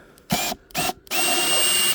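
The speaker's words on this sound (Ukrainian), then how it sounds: "Взяв ось шурика, відкручу зараз і ручки." A cordless screwdriver backs screws out of the handles on a pine wooden crate: two short whirring bursts, then a longer sustained run, close and loud with no talk.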